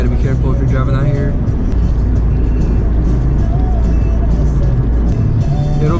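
A car cruises along a road through Oregon's Columbia River Gorge in late winter, with a loud, steady tire and engine rumble filling the cabin and a voice talking over it.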